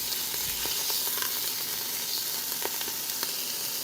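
Braciole sears in a slow cooker set to sear, giving a dense, steady sizzle close up, with a few faint taps and shifts of the meat against the pot.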